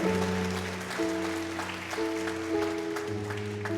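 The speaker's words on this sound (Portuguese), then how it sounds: "Você pode aplaudir o Senhor?" A church congregation applauds steadily throughout a worship service, the clapping blended with sustained musical tones from accompanying instruments, with no talking over it.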